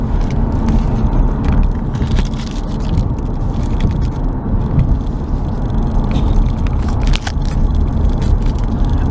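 A 2016 Chevrolet Camaro with a direct-injected engine, heard from inside on a long road trip: a steady, loud rumble of engine and exhaust mixed with road and tire roar, continuous and droning with little change.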